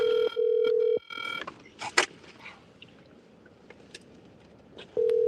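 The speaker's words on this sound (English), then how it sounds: "Let me call Bill Haney." Telephone dialing tones, a steady tone at the start and again at the end with brief key beeps and clicks in between, close and clear with no talk over it.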